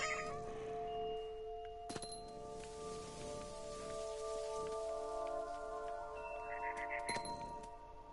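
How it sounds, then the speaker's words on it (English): A cat meows in the video game What Remains of Edith Finch, a few short calls over steady ambient game tones and soft rain-like background, with light speech. "Kitty cat can jump."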